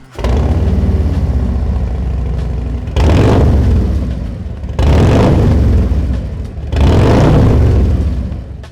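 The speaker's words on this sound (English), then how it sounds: "start up the bike for the first time" A Harley-Davidson Touring motorcycle fitted with Khrome Werks slip-on exhaust starts and idles with a loud, deep rumble, then revs in three strong bursts that each swell and settle back to idle.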